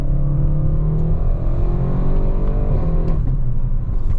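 A 750-horsepower Audi RS6 accelerates hard, its engine a loud, steady rumble and rising drone with turbo whoosh, recorded from inside the car with no talking.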